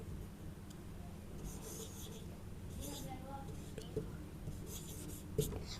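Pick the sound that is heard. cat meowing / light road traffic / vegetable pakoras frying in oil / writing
writing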